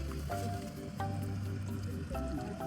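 Hot volcanic spring water bubbling and gurgling up close, a steady wet churning with repeated bursts of bubbles popping at the surface, loud and continuous throughout.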